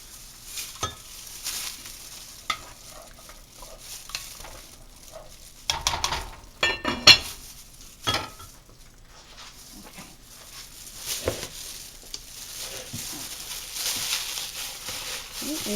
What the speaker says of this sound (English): I have to stir the sauce. I don't want it to burn.